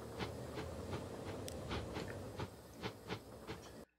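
A steam express train in the video game Transport Fever 2 rolls along with a steady rumble and rhythmic clicking of wheels over rail joints, ending abruptly.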